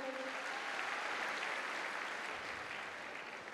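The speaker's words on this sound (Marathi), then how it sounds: "आलेल्या मान्यवरांसाठी एकदा जोरदार टाळ्या होऊ द्या." An audience claps for the honoured guests at a comedic public speech, a broad, even wash of applause that holds steady for a few seconds before easing slightly, with no voices over it.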